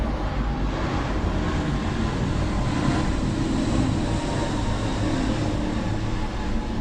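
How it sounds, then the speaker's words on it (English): A loud, long roar of an airplane passing overhead in a dungeon-crawl game, a dense steady broadband rumble that holds at even strength for several seconds without any voices. "Here's another plane."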